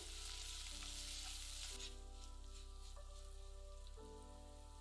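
Slit green chilies, sliced onion, curry leaves and dried red chilies sauté in hot oil, giving a faint, steady sizzle with occasional soft stirring scrapes and no talk.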